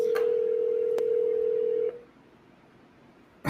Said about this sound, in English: Is that you dialing or me?